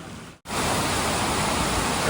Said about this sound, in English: there's the waterfall behind us